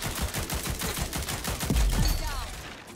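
Quick bursts of automatic gunfire from the shooter game Rogue Company, with evenly spaced sharp shots that are close and loud, and a heavier impact near the end.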